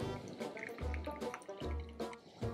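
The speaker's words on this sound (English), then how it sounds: "Drain the water." Water drains from soaked flour dough in a cup, trickling and dripping close up in short repeated pours. It is quiet and there is no talk.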